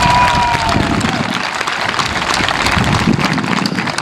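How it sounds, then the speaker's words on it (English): Audience at a high school commencement breaking into applause, a dense, sustained wash of clapping that fills the hall, with a few cheers and a voice fading at the start. "That deserves a round of applause."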